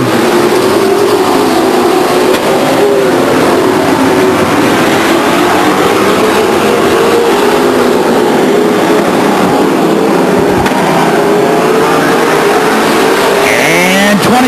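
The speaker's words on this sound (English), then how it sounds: "Mark Welch takes him down the backstretch." Stock cars racing at Stockton 99 Speedway, loud continuous engine roar of several cars passing close, with rising and falling pitch and a brief squeal near the end.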